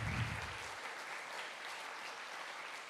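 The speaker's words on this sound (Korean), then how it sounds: "찬양을 받으시는 하나님께 영광의 박수 올려드리겠습니다." A church congregation applauds during a Sunday afternoon worship service, a soft, steady patter of many hands clapping together, faint and distant throughout.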